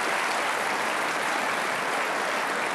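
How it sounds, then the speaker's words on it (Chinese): Sustained, dense applause from an audience at a professional billiards match, steady and fairly loud throughout with no pauses and no voices on top. "鼓掌鼓掌，还是鼓掌，"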